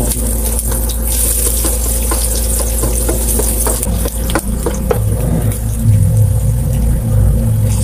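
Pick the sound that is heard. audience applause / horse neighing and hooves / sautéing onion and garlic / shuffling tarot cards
sautéing onion and garlic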